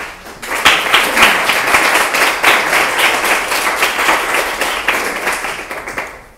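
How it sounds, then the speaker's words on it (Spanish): A room audience applauds after a design talk, with sustained dense clapping that holds steady for several seconds before tapering off at the end. "Se ha aplaudido otra vez."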